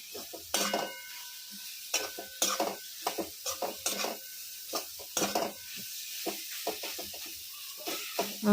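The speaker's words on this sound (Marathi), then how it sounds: "आता याच्यातनं आपल्याला हे भिजलेले सोयाबीन घालायचे आणि सोयाबीनला छान दोन मिनटं परतून घ्यायचं" Soaked soybeans being stirred and sautéed in a masala in a pan over a full flame, a soft sizzle under repeated scraping and clinking of a spoon against the pan in an irregular rhythm.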